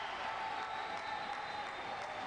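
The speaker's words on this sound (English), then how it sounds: "Crowd noise is frustrating KALEM" Crowd noise at a Rio Paralympic men's Class 9 table tennis match forms a faint, steady murmur with light applause-like texture in the background.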